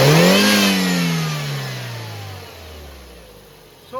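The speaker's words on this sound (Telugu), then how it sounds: "నేను గేజ్ పుల్లను ఓపెన్ చేస్తాను, మీరు చూసుకోవచ్చు. ఇక్కడ ఇప్పుడు ఎక్సలేటర్ ఇప్పిస్తాను" A 2011 Ford Figo engine is revved loud and close as the accelerator is pressed, its pitch rising briefly and then sliding steadily down toward idle before a short blip at the end.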